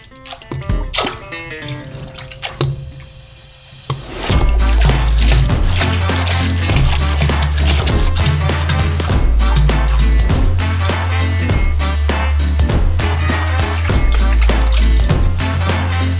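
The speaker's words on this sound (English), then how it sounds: "Pour in 10 liters of the concentrate into the water." Strawberry concentrate poured into water in a tub, a steady heavy gush and splashing that follows a few seconds of quieter drips and handling, loud and continuous once the pour starts.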